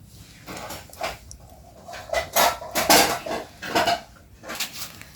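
A spoon scrapes and clatters against a dish as food is scooped onto a plate, a series of close, loud metallic clinks and scrapes with no talking.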